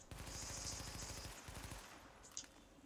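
Rapid automatic gunfire from an SMG or LMG in The Division, fired at close targets; a dense, loud burst of repeated shots that thins into scattered rounds and one sharp final crack.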